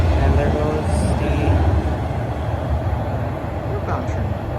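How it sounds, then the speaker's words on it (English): A northbound TTC subway train passes Highway 407 station, making a steady broadband rumble and rail roar at a constant level through the whole stretch, with faint higher squeals above it. "northbound train."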